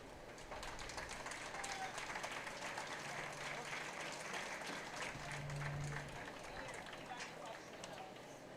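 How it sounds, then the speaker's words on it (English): Applause for a high school baseball senior class on senior day at a Bethany vs. Western Heights game, steady crowd clapping throughout with outdoor murmur and a faint tone in the background. "One more round of applause for these guys."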